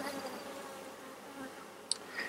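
Honey bees buzzing around an open hive in a soft, continuous hum close by, with a brief sharp click near the end and quiet surroundings.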